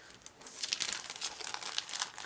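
Plastic bag holding the decal sheets of an Eduard 1/48 Spitfire Mk IIa/b model kit crinkles close by in a continuous rustle, with no talking.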